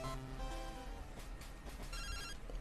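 Telephone ringing in Pokémon Crystal on the Game Boy Color, a chiptune ring of repeated beeping tones over steady background game music.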